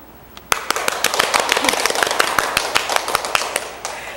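Audience applause at a live Sapporo studio broadcast, many sharp individual claps starting suddenly and continuing steadily and fairly close, with scattered louder hand claps standing out.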